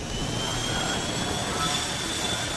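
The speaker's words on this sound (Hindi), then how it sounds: "जंगी जहाजों के डेक से उड़ान भरते लड़ाकू विमानों की गर्जना से दुश्मन दहल गए" Fighter jets launch from warship decks during an India, US and Japan naval exercise, a loud continuous engine roar with broad rumbling noise and a high whine, steady throughout.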